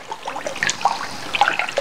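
A liquid germicide mixture containing texapon is stirred in a container, giving soft sloshing and trickling splashes with small bright drips. The sound is close and continuous with no talk.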